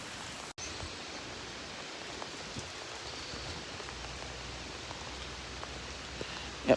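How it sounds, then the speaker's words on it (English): Lake effect rain in Oswego, a steady soft hiss of falling rain with occasional close drops, fairly faint and continuous. "Yep, lake effect rain here in Oswego right now."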